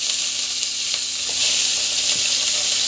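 Onions sautéing in a pan for biryani, a steady close sizzle and hiss running throughout with faint scrapes of stirring, no voices.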